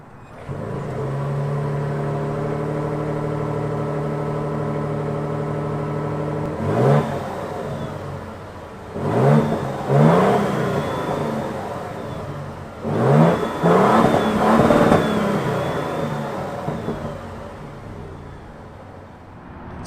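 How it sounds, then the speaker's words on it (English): A 2024 Toyota Tundra TRD Pro V6 idles with a low, grumbly exhaust note, then revs sharply three or four times in quick bursts, close and loud, before settling back to idle. "Let's hear what this exhaust note sounds like. I personally love this. This is a fantastic sounding V6. It's a little grumbly."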